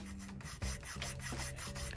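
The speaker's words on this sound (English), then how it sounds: "So I'm just sanding it here." Rhythmic back-and-forth strokes of roughly 400-grit sandpaper rasp against rust on a 1988 Koga Miyata mountain bike's metal frame, quick and even, close to the listener with no talking.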